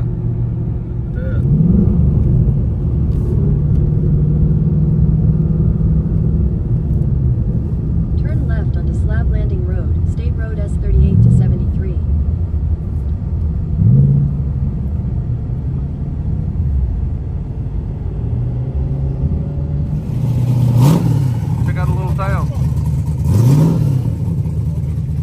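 A car drives the back roads of South Carolina, its steady engine rumble continuous throughout, with a few brief revs rising over the drone.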